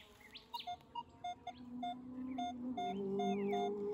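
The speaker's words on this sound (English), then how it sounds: "in amongst all the bird calls" Birds chirp and call in a thicket beside old bricks: short repeated chirps and brief trills rise over a steady hum and low background rumble, fairly faint and without talk.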